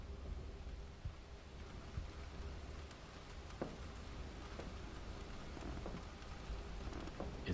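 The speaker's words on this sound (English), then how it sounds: "Is it only raining in that room?" Steady rain pours inside a room in the video game Ten Bells, a constant hiss with a few faint thunder-like thumps scattered through it, moderately loud and with no one talking.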